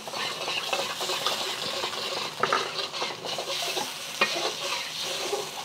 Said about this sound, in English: Okay, pour in your cornstarch slurry.